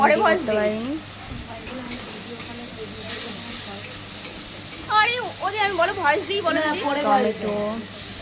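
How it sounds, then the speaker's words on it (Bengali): Masala for potato curry (aloo dum) fries in a pan with ginger paste, onion and ground spices, a continuous close sizzle and hiss with stirring, while someone talks over it at the start and again later. "আলুর দমের জন্য মশলাটা কষানো হচ্ছে"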